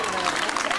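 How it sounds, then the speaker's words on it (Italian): Brief burst of audience clapping at a freestyle quad show, dense and fairly loud, cutting off quickly. "Ancora, un applauso."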